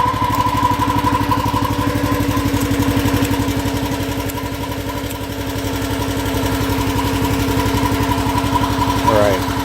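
A Honda engine on a Titan Hydramax pressure washer runs close and loud with a steady, rapid putter throughout, while a person talks over it.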